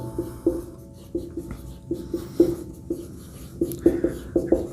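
A pen or chalk writes on a board during a Class 12 maths lesson on integration by substitution, making a series of short, quiet tapping and scratching strokes in irregular bursts with no talking.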